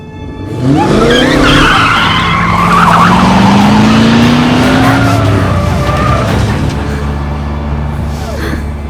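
A car's tires squeal in a long, loud skid on a road as a truck nearly forces it off, the screech rising and sliding over engine roar, with no voices.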